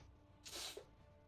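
A single short sneeze bursts out quietly against a faint background, over in under half a second.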